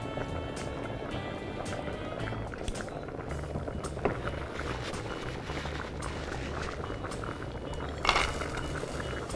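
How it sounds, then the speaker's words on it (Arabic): Pot of chicken tashreeb broth bubbling at a steady boil, a dense continuous simmering hiss with a few clinks of utensils against the pot, close up and with almost no talk. "مثل ما نشوف تشريب دا يغلي عندي"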